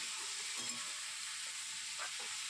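A curry sizzles and fries in a pan while being stirred, a soft continuous crackling hiss with a few faint scraping knocks from the spoon, fairly quiet and close.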